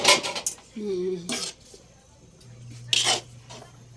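Pancit noodles are tossed back and forth in a pan with a utensil, making bursts of scraping and clatter between quieter gaps, with a faint hum underneath.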